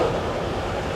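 Steady low rumble and rolling rattle inside a German passenger train in motion, continuous and close, with no talk over it.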